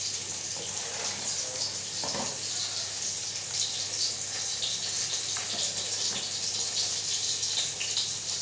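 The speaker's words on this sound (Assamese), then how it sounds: "চাহৰ পানী উতলি আছে" A pot of water for tea boils on the stove, giving off a steady, close rushing bubble and hiss with a few faint knocks in the background, and no one speaking.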